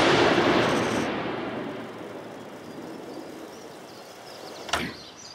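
A single 50 BMG rifle fired through a factory Steyr muzzle brake, FMJ rounds at about 2800 feet per second: a loud blast that decays into a long rolling echo, followed by a sharp crack near the end.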